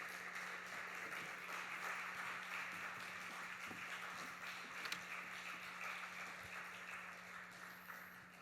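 Faint, distant congregation applause welcoming a preacher at a Korean Sunday evening church service, a soft continuous patter of clapping under a steady low hum, with no talk.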